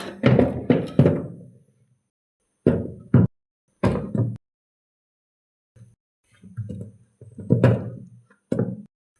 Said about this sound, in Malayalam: ആദ്യം തന്നെ നമ്മുടെ ഐശ്വര്യമായിട്ട് പൈനാപ്പിൾ തന്നെ ഇട്ട് കൊടുക്കാം.